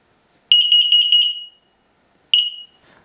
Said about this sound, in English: This is CO alarm.